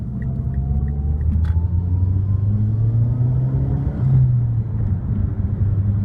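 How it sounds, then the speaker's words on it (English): A 2008 Mazdaspeed3 under way, with a deep, steady road and engine rumble and a rising tone as the turbo spools up, plus tire noise, heard from inside the car without talk. "that sound of the tires just gripping and turbo spooling up"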